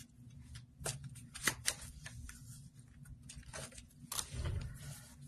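Divination cards shuffled by hand at close range, a series of quick riffling and slapping bursts of uneven rhythm over a low background hum, with no talking.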